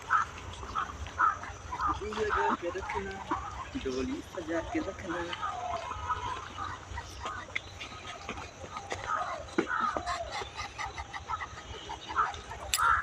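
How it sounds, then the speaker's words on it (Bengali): Chinese and Campbell ducks quack and chatter nearby in a busy flock on a pond, calls overlapping almost continuously while people talk over them. "দেখো সবগুলো হাঁস কিভাবে নামলো"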